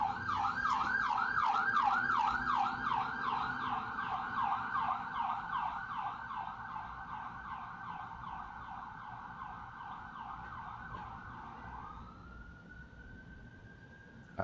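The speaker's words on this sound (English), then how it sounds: "It's an ambulance for sure." An ambulance siren out in the street wails in rapid rising-and-falling cycles, moderately distant and steady, then shifts to a long held tone before cutting off.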